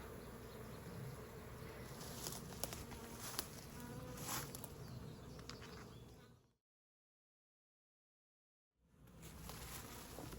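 A dense, steady hum of many honeybees buzzing close by at a hive entrance as they fan to cool the hive, continuous for several seconds, then cut to silence before the buzzing resumes.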